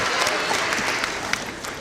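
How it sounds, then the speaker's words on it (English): Full crowd applause at a high school senior awards ceremony, many hands clapping steadily and loudly, easing slightly toward the end. "give him one more round of applause"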